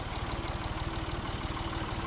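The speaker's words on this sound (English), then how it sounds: "I'm going to take the tractor back to the hay barn, park it" A tractor engine idles steadily nearby with a low, even chugging throb throughout.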